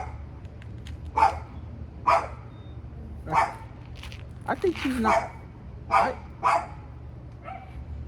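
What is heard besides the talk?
dog barking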